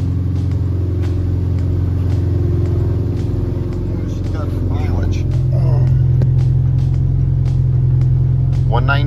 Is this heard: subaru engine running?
yes